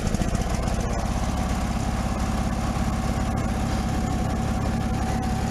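Snapper snow plow engine running steadily at about half throttle, a loud, continuous mid-low drone with a faint whine, close by and with no talk.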